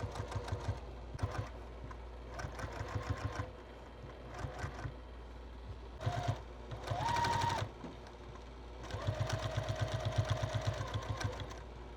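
A sewing machine quilting a quilt runs in several bursts of rapid, even needle stitching, close and loud, with short pauses between runs and a longer final stretch.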